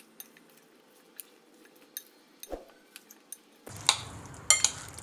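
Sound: stirring potatoes into spice mix in a pan

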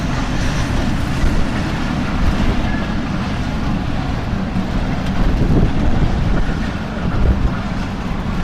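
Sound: train passing

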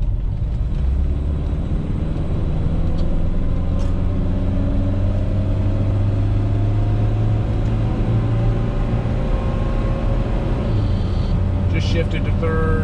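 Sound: 1974 BMW 2002 engine accelerating on freeway on-ramp

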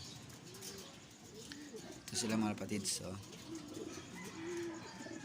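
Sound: pigeons cooing

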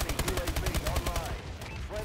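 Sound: shotgun gunfire in a video game

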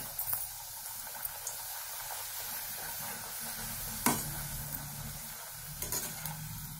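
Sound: puris frying

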